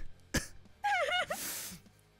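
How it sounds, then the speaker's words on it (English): A sharp single cough, then a raspy throat-clearing cough followed by a breathy, noisy exhale, close and fairly loud. "I'm coughing too much"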